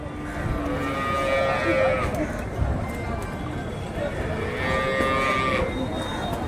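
A bull calf lowing repeatedly at a native cattle market, drawn-out moos rising over a busy crowd with people talking and hooves clopping nearby.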